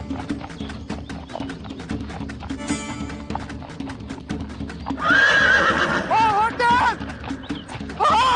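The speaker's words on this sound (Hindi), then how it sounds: "वो हमारा घोड़ा लेकर नहीं गया, बल्कि हमारा घोड़ा उसे लेकर आ रहा है।" Horse neighing loudly with a long rising and falling whinny, following a stretch of rapid hoof clip-clop and busy drama scene sound from a fantasy adventure series, nearby and prominent.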